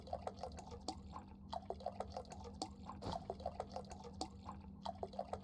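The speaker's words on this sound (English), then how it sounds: "Is that someone, like, pouring some iced tea into a cup?" Water glugging and dripping from a gallon jug being emptied, a soft, irregular run of drips and splashes over a steady low hum, fairly faint and with no voices.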